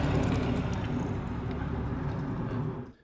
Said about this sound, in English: Here's the mail truck going by.